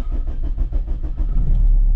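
A car engine with a freshly replaced glow plug cranks and starts on the first try without preheating, a loud rhythmic turnover that settles into a steady idle, close by and with no talk.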